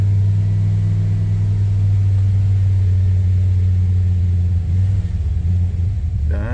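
A Jeep engine with a failing fuel pump runs with a loud, deep, steady rumble close by, wavering slightly near the end as it falters.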